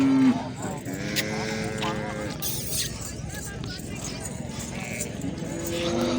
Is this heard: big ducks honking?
no